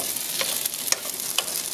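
Gnocchi fry over high heat in brown butter, a soft, steady sizzle broken by a few quick stirring scrapes and pops, close and fairly quiet.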